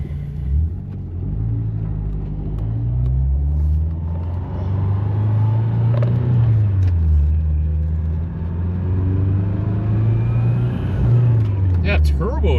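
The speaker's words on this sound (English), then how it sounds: "That turbo just spools right up." A turbocharged sports car left parked for 35 years runs and revs, its low engine drone rising and falling steadily for the whole stretch with bursts of revving and a faint turbo whistle, loud and close.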